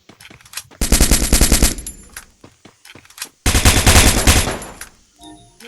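Rapid automatic gunfire from a shooting video game, two long loud bursts separated by a gap with scattered single shots and quieter game sounds around them, no talking.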